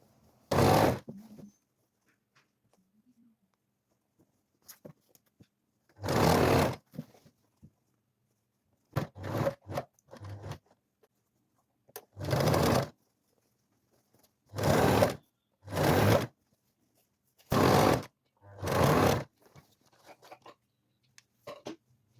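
A sewing machine stitches men's shorts in short, close bursts of rapid whirring, about nine separate runs with quiet pauses between them.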